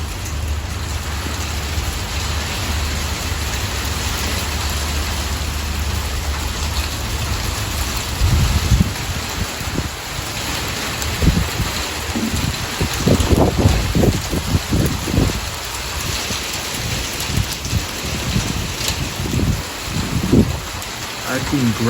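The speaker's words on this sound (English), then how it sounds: "No, just sleet. Just sleet and ice." Sleet and ice fall steadily during a winter storm with strong gusty winds in Albuquerque, a continuous loud hiss of pelting precipitation with intermittent low buffeting gusts striking the microphone.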